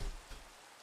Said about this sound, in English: we can get the rain to go away